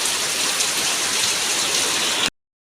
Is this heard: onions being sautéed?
no